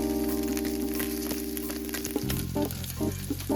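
A dry-aged ribeye steak sizzles in a hot skillet, a loud, steady frying hiss with crackling pops over a low background hum.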